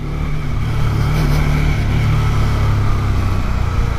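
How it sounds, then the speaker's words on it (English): A scooter passes close by on a rough Indian street, heard as a steady engine drone mixed with other road traffic, continuous and fairly loud throughout with no talking. "You see how close that was, that scooter?"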